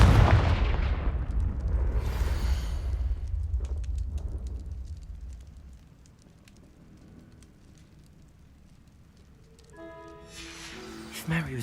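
Fiery spell blasts from Hogwarts Legacy's Confringo curse boom loudly in the opening seconds, then fade into quieter ambience before a bright magical chime near the end.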